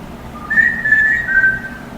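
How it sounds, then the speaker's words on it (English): A single person whistles a song melody, a few sustained and gliding tones close up against a soft background, with no talking. "the first whistle that you can do is like to sing a song or to whistle a song like"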